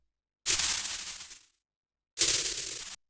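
Two bursts of white noise through a bandpass filter with auto-pan set to its noise mode, used in dark techno. Each is an abrupt hiss with a grainy, fluttering texture; the first lasts about a second, the second slightly less.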